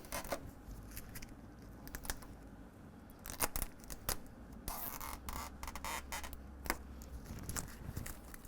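Adhesive tape backing being peeled and pulled away from a Husky Liners floor mat in a 2015-2025 Ford F-150 SuperCrew, heard as close crackly tearing and scratchy rustles in uneven bursts.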